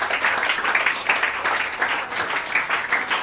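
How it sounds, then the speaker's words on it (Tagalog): A church congregation applauds together in a sustained wash of clapping with a steady, rippling rhythm that is fairly loud and close, and no talk over it. "Palakas sa palakpak sa ating Panginoon."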